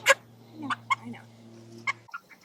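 A smaller hen in a chicken tractor on a pasture farm gives a few short, sharp clucks spaced irregularly, close and fairly clear over a low steady hum.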